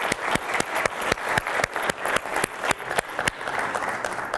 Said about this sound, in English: give another round of applause to Dr.